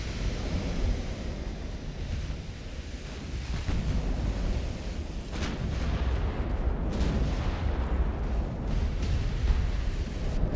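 Naval gunfire in Ultimate Admiral: Dreadnoughts as battleship secondary guns trade fire, a dense, continuous rumble of booming shots over a roaring sea-like wash, with sharper cracks standing out near the middle and later.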